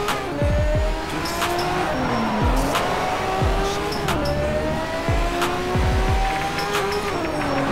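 Race car in Need for Speed: Shift, engine revving high and dropping through rapid gear shifts, loud and close, with repeated upshift sweeps and occasional tire noise throughout.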